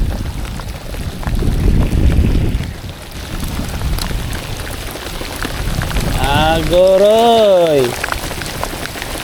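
Heavy rain pours steadily over open water during kayak fishing in the Philippines, a dense hiss with loud gusts, while someone talks briefly and a whistling sweep rises and falls near the end.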